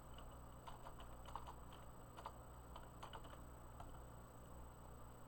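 Typing on a computer keyboard while coding in C#, soft scattered keystroke clicks in short bursts over a quiet, steady hum, faint and close, with no voices.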